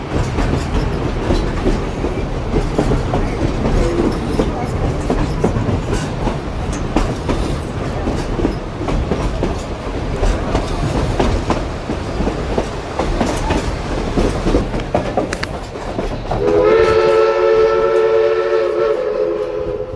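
A Durango & Silverton narrow gauge train in Colorado rumbles and clatters along the rails steadily, then a loud whistle sounds near the end.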